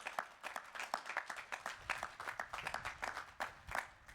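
An audience at Harvard Law School Class Day applauds, a quiet, rapid patter of many hands clapping steadily from a distance, with no talk over it.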